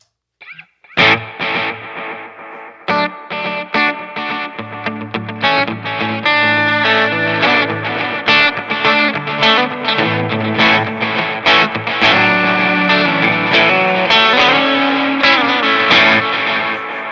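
Electric guitar played through a rig with a dotted-eighth delay, sounding as a loud, continuous passage of layered, repeating notes with effect-laden sustain, heard alone with no talk.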